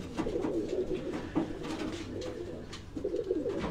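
Ali breed pigeon cooing close by in soft, repeated rolling coos with faint background murmur.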